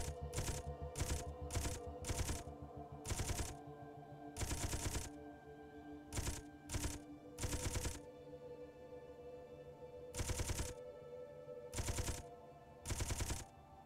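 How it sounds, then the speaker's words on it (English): Ship-mounted guns firing in the game Space Engineers, in a series of short rapid-fire bursts separated by brief pauses. The shots are fairly faint and distant-sounding, with no talking over them. "There's a lot of recoil from these guns though."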